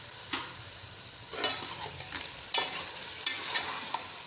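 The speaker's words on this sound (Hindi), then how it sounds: "ये इमली भी डाल दी है और 2 मिनट और भूनते हैं इसे।" Rice being stirred and fried in a pan with tamarind for chicken pilau, a soft scraping sizzle with a few distinct stirring strokes, close and fairly quiet, no talking.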